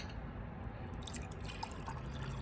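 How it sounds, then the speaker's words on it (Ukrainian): Water trickles quietly as it is poured from one drinking glass into another, a soft, close splashing over a couple of seconds. "ми переливаємо воду в, один, в одну склянку"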